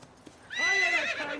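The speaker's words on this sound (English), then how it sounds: "She's a splendid horse." A horse gives one loud, close whinny that rises and trails off after a faint knock or two.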